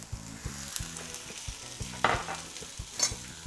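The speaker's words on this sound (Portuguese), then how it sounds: "Vamos começar salteando o pimentão e depois a gente vai reservar ele de novo para ele voltar no fim." Yellow bell pepper sautéing in olive oil in a smoking-hot pan, sizzling steadily with a bright frying hiss, broken by regular utensil taps and a couple of sharper scrapes; no one speaks.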